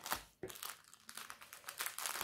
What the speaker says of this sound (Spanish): lo voy a abrir así para luego poder volver a meterlo en la bolsa